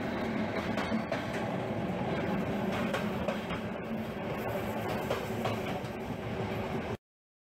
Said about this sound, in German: Mit seiner Anlage Joinville entführt euch Jan van Remmerden in das romantische Südfrankreich auf einen kleinen Dorfbahnhof